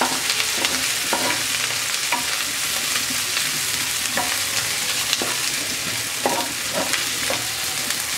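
Green chilies and onion fry in a pan with a loud, constant sizzle, broken by the scrape and clink of a spatula stirring now and then.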